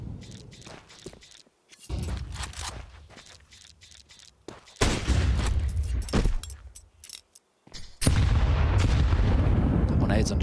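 Grenades go off in a Counter-Strike esports match, loud bursts of blast noise and gunfire cracks spread through the stretch, with footstep-like clatter between hits and a heavy explosion near the end.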